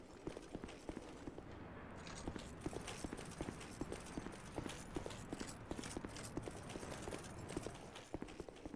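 Horse hooves clip-clop in a steady, rapid rhythm in the game Dark Souls 2: Scholar of the First Sin, with crisp repeated hoof strikes throughout that sound close and clear.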